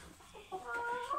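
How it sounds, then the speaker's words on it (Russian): Moscow Black hens and roosters clucking softly in a poultry house, a faint brief run of low clucks and calls, no talk. "12 курочек московской черной, 4 петуха с ними"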